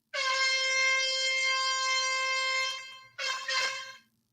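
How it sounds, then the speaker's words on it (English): A long loud air horn blast lasting about three seconds, followed by a shorter second blast, blaring alone with nothing else around. "This sound effect is called air horn 2."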